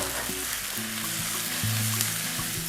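Eggplant and grated coconut fry in oil in a pan while being stirred, a steady close sizzle with soft scraping and no talking.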